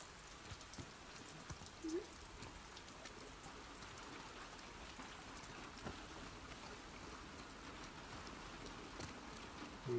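Rain in The Last of Us Part II, a soft, continuous patter and hiss of falling rain at low volume, with a few faint thuds and clicks over it and no talking.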